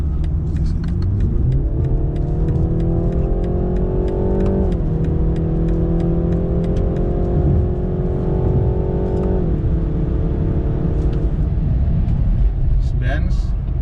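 BMW 330i G20 driving on an early-morning mountain road from Batu Dam to Genting area, engine note rising steadily through gears with clear upshifts around five and nine seconds, continuous road rumble close inside the cabin.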